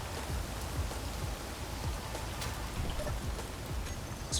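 Steady rain falls in the Space Engineers video game, a dense, even hiss of drops with occasional sharper patters, moderately quiet and continuous with no talking.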